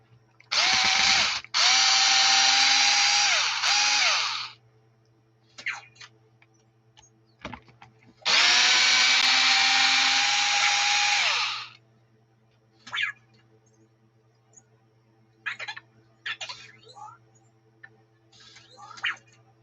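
A power drill works on the screws of an Arrma Kraton EXB RC car's rear differential, two long sustained whirring bursts close up, followed by short clicks and ratcheting handling noises.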